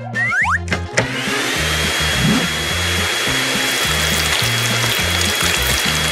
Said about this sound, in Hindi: मुझे लगता है एक हेयर ड्रायर तुमसे निपटने में मेरी मदद करेगी।